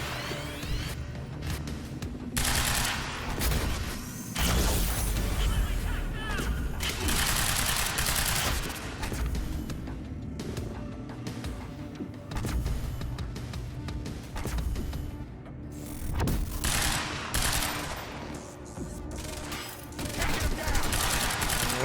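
Rapid bursts of gunfire from the Quantum Break video game, dense clattering volleys that repeat with short gaps at a moderate level.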